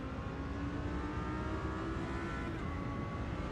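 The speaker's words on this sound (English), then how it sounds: "I'm trying to listen to the sound of his engine" A GT race car engine at Spa-Francorchamps drones steadily as a sustained, even tone with a faint pitch shift near the end, heard alone with no voices.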